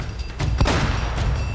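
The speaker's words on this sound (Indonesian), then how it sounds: "Suara shotgun." A shotgun blast in Uncharted: Drake's Fortune gameplay: a loud, booming report with a sharp crack near the middle, over a dense, continuous game soundscape with no speech.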